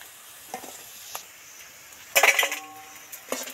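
Deep-fried bata fish being lifted from hot oil, with a soft crackling sizzle and metallic clinks of utensil against pan, punctuated by a louder splashy crackle midway.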